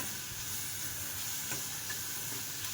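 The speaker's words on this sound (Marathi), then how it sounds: "परतून घ्या" Tomatoes and coriander sautéing with green mung beans in a pan, a close, steady sizzle and hiss with light stirring throughout, no voices.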